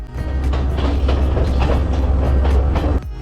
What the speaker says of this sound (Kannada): ಟ್ರೈನ್ ನೋಡಿ ಹೇಗೆ ಹೋಗ್ತದೆ ಅಂತ